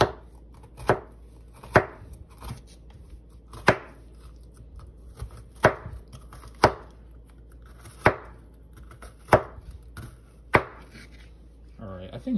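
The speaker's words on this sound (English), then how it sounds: "So now we got basically bitter melon rinds that we are going to slice up into slices," A knife slices through bitter melon rinds on a cutting board, about a dozen sharp, distinct knocks at a loose, unhurried rhythm, close and clear with quiet gaps between.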